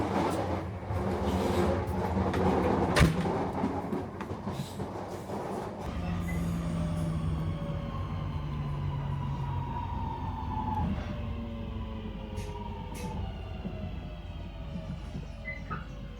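Inside a moving Northern passenger train from Blackpool toward Manchester, a steady loud rumble of wheels and running gear with a rising engine drone after a brief jolt, no talk heard.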